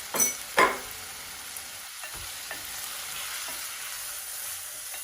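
Green chillies dropped into hot tempering oil in a pan give two quick bursts of sharp crackling, then settle into a steady soft sizzle.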